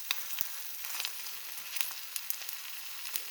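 An egg frying crispy in a pan, with a steady hiss of sizzling oil broken by sharp crackles and pops scattered throughout, close and fairly quiet with no talking.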